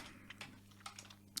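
Faint, scattered keystrokes on a computer keyboard, a handful of light clicks spaced irregularly over a steady low electrical hum.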